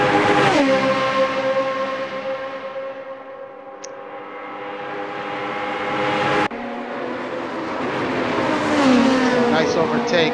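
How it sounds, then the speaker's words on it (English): Open-wheel race cars at Kyalami in a racing video game, high engines screaming close by and shifting pitch as one car passes another, with a sudden cut partway through and a commentator talking over the engine noise. "Nice overtake there by John Houston."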